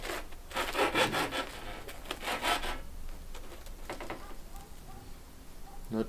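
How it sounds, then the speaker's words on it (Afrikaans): A knife saws open a bread roll filled with boerewors, garlic and cheese. Several rhythmic rasping strokes come up close and loud at first, then give way to quieter, scattered scraping. "Kom ons sny hierdie broodjie oop en kyk ons hoe lekker."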